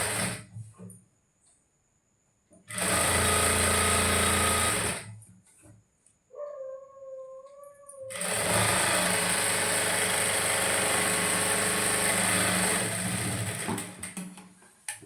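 Sewing machine stitching a blouse, running in two long, loud, steady bursts separated by a pause with a brief tonal whine and handling noise.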